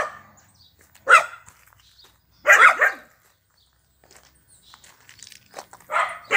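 Dogs bark in several loud separate bursts near an old abandoned wooden house, with quiet gaps between the barks and no talk.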